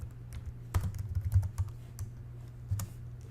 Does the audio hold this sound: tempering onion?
no